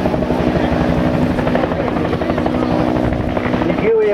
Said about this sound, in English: the thump, thump, thump of the helicopters.